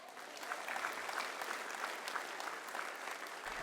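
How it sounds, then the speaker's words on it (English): Audience applauding a high school softball team at a graduation event, steady clapping from a crowd holding fairly even for several seconds at moderate distance. "Round of applause."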